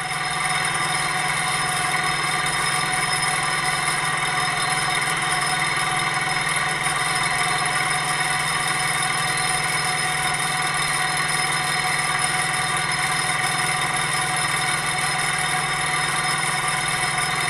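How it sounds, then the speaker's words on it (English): A high-temperature gamma Stirling engine, the Mark II, runs at high speed, a constant loud mechanical whir with steady rattling vibration and unchanging pitch throughout. "Stirling engine Mark II."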